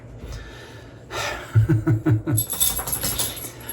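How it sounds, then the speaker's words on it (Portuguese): A dog wanting to come inside, giving a quick series of short whines or huffing barks close by, followed by rustling and movement at the door. "Ai, meu cachorro quer entrar, pessoal, peraí"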